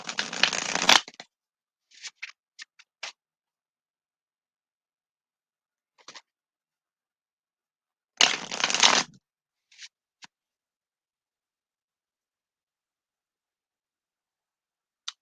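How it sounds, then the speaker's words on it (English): A deck of tarot cards is riffle-shuffled in two loud bursts roughly eight seconds apart, with scattered soft taps and card handling between them in an otherwise silent room. "I also want to get these cards shuffled a little bit"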